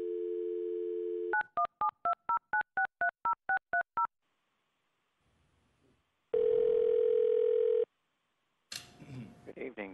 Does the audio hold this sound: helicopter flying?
no